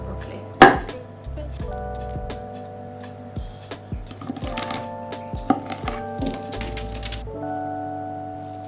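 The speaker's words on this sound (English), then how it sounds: "we're going to chop off the stalk and save that with the other half for another dish" A kitchen knife chops through a broccoli stalk on a board, giving a loud first thud followed by a string of irregular, close clacks and taps with faint background tones between strokes.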